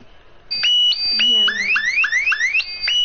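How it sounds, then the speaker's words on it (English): An in-game alarm clock rings in Fortnite, a loud electronic alarm of bright, rising, repeating tones that start abruptly and keep sounding in a steady pattern. "Oh my god, alarm."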